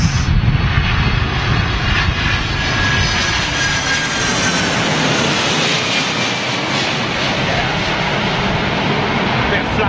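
A Delta Airlines Boeing 767 arrives at Heathrow in strong wind, its loud, continuous engine roar blending with heavy gusting wind noise throughout, while voices talk faintly in the background.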